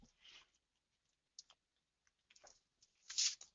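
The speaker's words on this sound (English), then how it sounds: "Excuse all the clicking around." Computer mouse clicking while navigating trading chart software, a few quick sharp clicks in short bursts separated by near silence, close and fairly faint.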